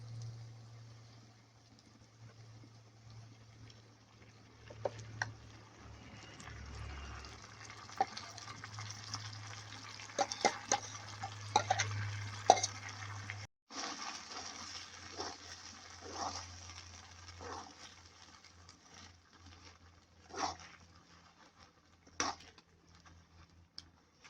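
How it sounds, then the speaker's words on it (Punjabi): Ground spinach going into a pan of roasted masala for palak paneer and being stirred, a steady low sizzle and frying hiss with scattered clinks and scrapes of a spoon, moderately close, no talking. "ਹੁਣ ਆਪਾਂ ਇਹਦੇ ਵਿੱਚ ਪਾ ਦਾਂਗੇ ਜੀ ਪੀਸੀ ਹੋਈ ਪਾਲਕ"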